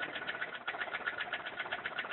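A small gamma-type Stirling engine built from recycled parts runs steadily, giving off a fast, even mechanical ticking and whirring close by with no voices.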